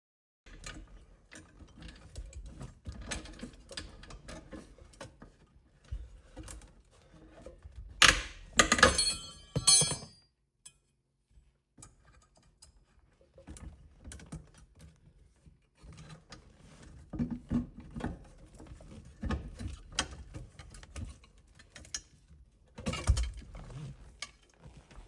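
Half-inch brake pedal bolts being loosened and removed under the dash of a 1966 Lincoln Continental, with intermittent ratcheting clicks and metallic clatter, a louder burst of rattling midway, then a quiet gap before more scattered tool noise.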